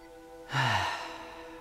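A single deep inhale during a tai chi session, close and fairly soft, swelling briefly and then trailing off into quiet.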